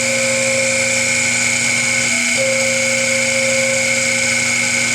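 A CNC machine runs a drilling cycle on a Hemi valve cover, giving a loud, steady high-pitched whine with strong tonal hum that holds throughout, dipping briefly in the middle before resuming.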